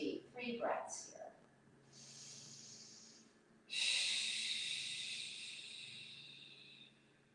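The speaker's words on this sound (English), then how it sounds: "And breathe deep. 3 breaths here." Deep, slow yoga breaths, a breathy airy rush swelling and fading in long strokes, close and soft, after a brief murmur of talk at the start.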